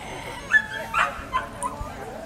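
Dogs at an obedience demonstration at a market fair give a few short, sharp yips and whimpers over a low crowd murmur, scattered across a couple of seconds.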